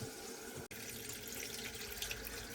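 Water running out of the drain-off on a Vaillant ecoTEC boiler, a steady faint hiss and trickle of flowing water, briefly interrupted near the start, otherwise continuous with no talk.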